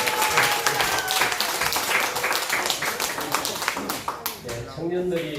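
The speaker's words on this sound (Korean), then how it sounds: "우리 힘차게 다시 한 번 더 우리 청년들을 위해서 우리 박수 한 번." A church congregation claps in sustained, dense applause at a Sunday youth service, loud and continuous, with a voice speaking over it before the clapping thins out near the end.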